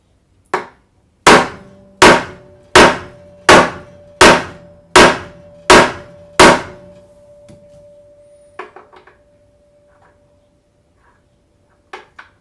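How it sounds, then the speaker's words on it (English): Eight sharp metallic taps of a fret hammer on a guitar fret in a steady, evenly spaced run, each ringing briefly with a sustained tone, followed by a few lighter scattered taps and quiet. "let's see what a little bit of application with the old fret hammer is going to do"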